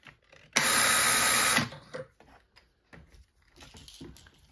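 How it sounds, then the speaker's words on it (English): A power drill spinning a brass case trimmer whirs loudly up close for about a second, then stops, followed by faint clicks and handling noises. "Take your trimmer with your drill."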